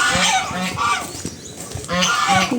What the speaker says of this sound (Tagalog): may ganso din sila dito